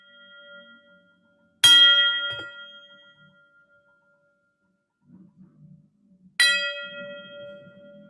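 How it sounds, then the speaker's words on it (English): The U-M Startup Bell rung twice to celebrate BlueConduit's launch, each a loud, bright clang with a long ringing decay, separated by a few seconds with faint low murmuring between strikes. "You look like a veteran bell ringer there."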